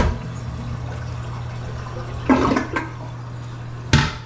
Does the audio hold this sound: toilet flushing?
yes